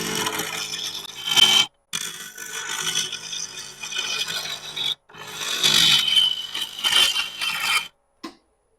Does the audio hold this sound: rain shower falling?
no